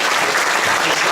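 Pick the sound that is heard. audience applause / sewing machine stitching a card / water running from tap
audience applause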